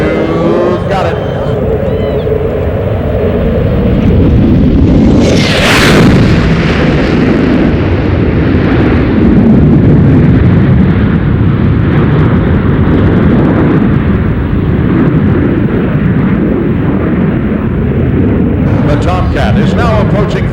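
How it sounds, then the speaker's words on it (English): An F-14 Tomcat jet makes a flyby at about 650 mph, a massive roaring rush that swells sharply to a peak and then sustains a heavy thunderous roar, with a commentator speaking over the noise. "the F-14 is accelerated and will be approaching at 650 miles per hour"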